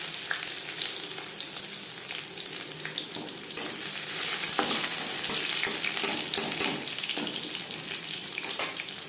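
Garlic and panch phoron fry in hot oil for masoor dal, a loud, close, crackling sizzle that spits and surges in bursts throughout.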